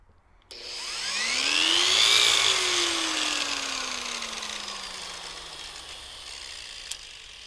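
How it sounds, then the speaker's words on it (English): An angle grinder powered by a Jackery 240 V2 portable power station whirs up to a loud whine within a second, then winds down steadily over several seconds as it loses power, with no voices. "Angle grinder tripped it out, so the angle grinder is a hard no."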